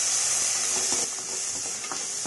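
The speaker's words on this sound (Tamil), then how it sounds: "அதையும் சேர்த்து நம்ம நல்லா இந்த எண்ணெயில் வதக்கிக்கிறோம்." Onion and tomato sautéing in hot oil for a radish fry side dish, a steady close hiss of sizzling with faint scraping stirs, dipping slightly partway through.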